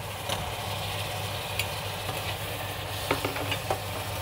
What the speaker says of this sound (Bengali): তারপর এভাবে নেড়ে দিব